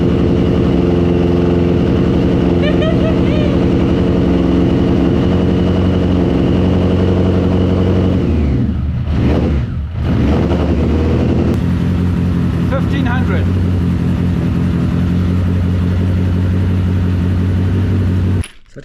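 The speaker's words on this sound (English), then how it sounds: "I got to hear what the exhaust sounded like for a few seconds" A BMW K100 cafe racer motorcycle runs its exhaust at a steady, loud idle with a brief revving dip midway, engine drone continuous throughout before cutting out at the end.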